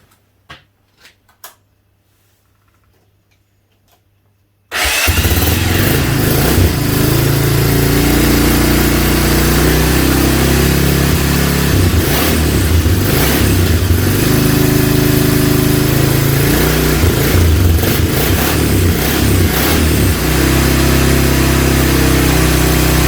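A Honda Big Red engine cranks and fires up after a few quiet clicks, then runs loud and steady close by with a rough, rumbling idle that continues without talk.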